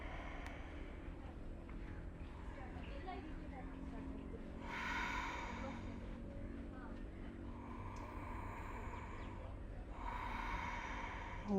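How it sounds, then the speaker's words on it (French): Slow, deep breaths during a qi gong hip exercise come as two soft, drawn-out exhalations several seconds apart, faint and close over a low background hum. "Respirez profondément."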